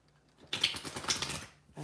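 A fresh tarot card deck gets a thorough riffle shuffle, a dense burst of quick flapping card clicks lasting about a second, close and moderately loud in a quiet room.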